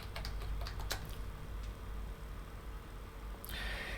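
Keys clatter on a computer keyboard as a terminal command is typed on a Linux desktop: a quick burst of close taps, a brief lull, then another flurry of keystrokes.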